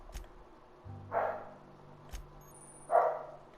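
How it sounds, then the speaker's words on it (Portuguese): A pet dog barks twice in a quiet room, two sharp single woofs about two seconds apart, close by, with a faint electronic hum and game tones underneath. "minha cachorra começou a latir agora"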